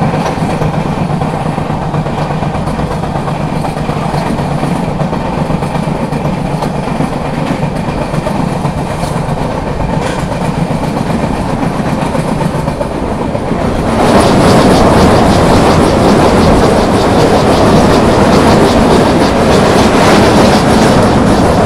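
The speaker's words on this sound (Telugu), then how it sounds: "సో మన ట్రైన్ కూడా డిపార్ట్ అయింది" Mandovi Express rolling along the rails on the Konkan coast after leaving Karmali, a constant rumbling clatter heard from on board that swells noticeably louder midway and stays loud, with no voices.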